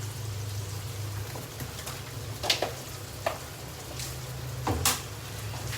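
Meat frying in oil in a pan gives a soft, steady sizzle close by, with a few sharp clinks and scrapes now and then and no talking.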